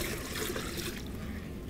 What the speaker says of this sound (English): So there's 1 gallon. I'm gonna pour a little in here.